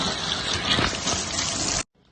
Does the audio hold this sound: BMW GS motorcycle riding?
no